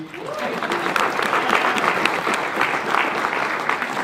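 An audience applauds at a Marvel event, dense sustained clapping with some cheering that fills the whole stretch at close, loud level.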